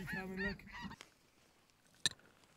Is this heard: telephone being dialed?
no